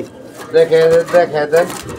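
Fancy pigeons at a market stall coo in several rolling, throaty phrases, close and loud, with people talking over them.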